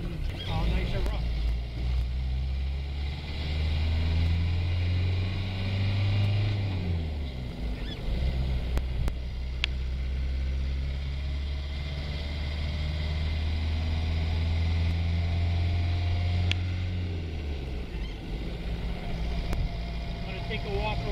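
A 1987 right-hand-drive Land Rover 110 with a turbo diesel engine and five-speed gearbox drones steadily while driving, with low rumbling harmonics that shift pitch twice as the revs change, heard from inside the vehicle.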